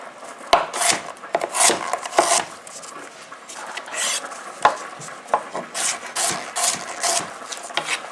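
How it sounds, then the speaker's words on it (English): A knife chops beetroot into small cubes on a board, producing a steady run of fairly loud, close knocks and thuds with a low background hum and no speech. "What I'm going to do is cube it up nice and small so it cooks at the same time as the potato."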